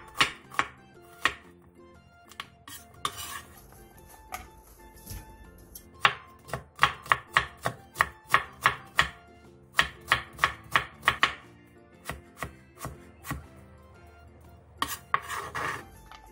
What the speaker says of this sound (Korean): 양파 2개와 당근 1개를 얇게 채 썰어주세요.